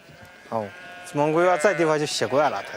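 Sheep of a Chinese breed on a Mongolian herding steppe bleat in a few short, wavering calls, near and fairly loud, with brief pauses between cries.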